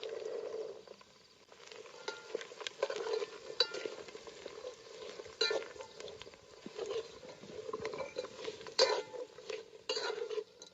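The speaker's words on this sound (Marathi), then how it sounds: "वाटाणा चांगलं परतून घेतलं." Shelled green peas stirred and sautéed with spices and chopped coriander in a pan for vatana bhat, a steady light sizzle under repeated scraping and clinking of a spoon against metal, close and moderately loud, with no talking.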